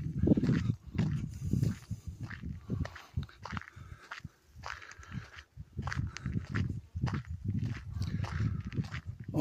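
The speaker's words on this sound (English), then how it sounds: "Now they're gonna hear me walking" Footsteps on a countryside walk near curious horses and cows, heard as irregular crunching steps that come close, pause and resume, with soft rustling and the odd faint animal sound between them.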